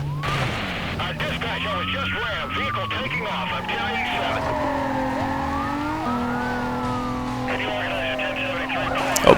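A police siren wails with rising and falling sweeps over a racing car engine in Need for Speed Most Wanted, loud and continuous, with a brief tyre screech and someone talking over it.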